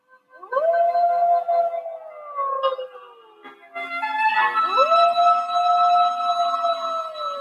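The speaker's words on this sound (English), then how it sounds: "One day a wolf sat on the rock that was Sylvester and howled and howled" A hungry wolf sitting on a rock howls again and again, long drawn-out wavering howls that rise and fall, loud and clear with other howls layered in the second half and no speech.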